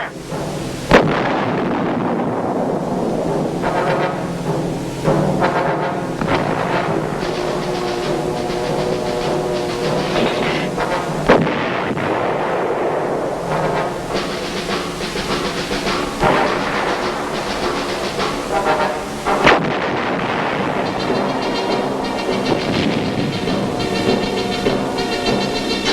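Vietnam War artillery guns fire in a dense, continuous roar, with sharp booming reports at roughly ten-second intervals over a rumbling, noisy wash that stays loud throughout and has no talking.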